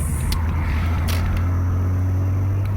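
A bus pulling away outdoors: a loud, steady low engine rumble and hum dominates throughout, with faint hissing bursts from the vehicle over the top.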